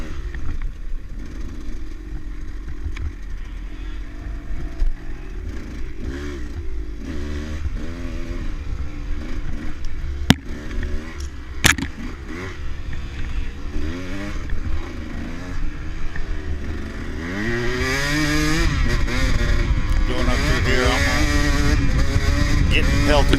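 A dirt bike engine snarls and revs through a muddy hare scramble race, rising and falling with throttle under loud wind noise, then climbing to a sustained high-pitched roar near the end.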